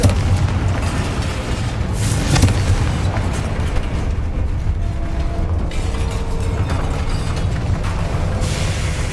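The Confringo spell explodes in Hogwarts Legacy on PS5 with a loud, dense burst of blast and rumble that stays heavy and continuous as game effects churn, with no one speaking.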